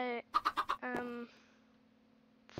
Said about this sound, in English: I just got four baby chickens and one egg on my one block Skyblock world